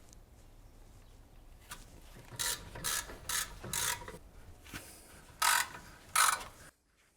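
Ratchet clicking while removing brake caliper guide bolts on a BMW E39 M5, several close bursts of rapid ratcheting, some short and some longer, over a quiet workshop background.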